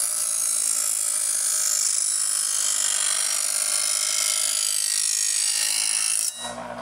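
Presto Eversharp electric knife sharpener grinding a knife blade through a slot, a continuous bright, hissing abrasive whine that holds steady and then cuts off abruptly near the end.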